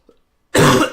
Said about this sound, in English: Hopefully that's the only first and last cough of the stream.